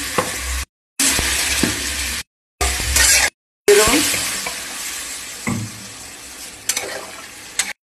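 Chili powder drops into a hot, sizzling pan of spices as a spoon stirs, a steady close frying hiss with scraping strokes, broken by a few brief cuts to silence.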